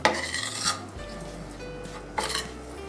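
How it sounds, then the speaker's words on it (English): Butter and flour stirred together into a roux for potato cheese soup, giving soft rasping scrapes of a utensil in a pot, close, in a couple of louder bursts over a steady low hum. "I'm making a roux,"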